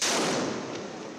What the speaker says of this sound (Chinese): 突然间传出爆炸声音